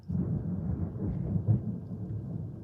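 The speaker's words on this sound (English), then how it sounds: "He just leaves his dog Todd freaking out from the thunder" Thunder rumbles through a storm at night, a dense, low rolling roar that swells and lingers across the whole stretch, fairly faint and distant with no voices.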